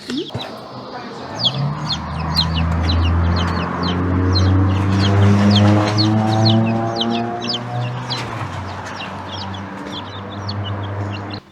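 Baby chicks peeping inside a cardboard box on their first day home: many rapid, high, thin chirps keep scattering across the whole stretch while a voice talks over them close by.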